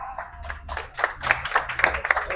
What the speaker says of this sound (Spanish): Recibamos con un fuerte aplauso, por favor, al maestro de la licenciada